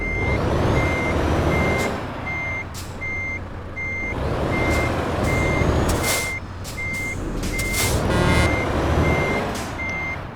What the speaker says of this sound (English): I'm also sorry if the engine is really loud.